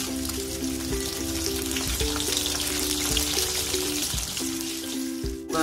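Dried red chillies and shallots frying in a pan for a Kerala-style onion chutney, with a steady, close sizzle, crackling bubbles and a few soft stirring taps; no one speaks.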